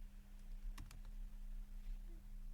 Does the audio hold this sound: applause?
no